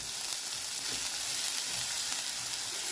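Onions frying in ghee with asafoetida for a Rajasthani panchratna dal give a steady, close, even sizzle with a bright hiss that holds unbroken throughout, no voices.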